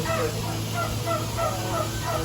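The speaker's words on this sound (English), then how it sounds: "These are some big turkeys" Several large turkeys gobble in short, repeated warbling bursts on a farm over a constant low mechanical hum, fairly close.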